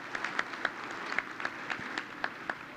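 Scattered, thin applause from the dinner audience at the White House Correspondents' Association event: a dozen or so distinct claps spaced irregularly over a quiet room, with no speech.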